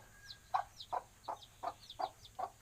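Newly hatched chicks peep in a steady series of about six short, high chirps at a close but fairly soft level, with no voices over them.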